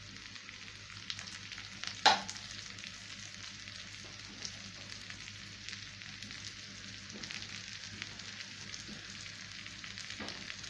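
A piece of chicken set onto a hot sizzler plate already loaded with vegetables crackles and hisses in a steady, close sizzle that holds for the whole stretch, with one sharper spit partway in and no voices.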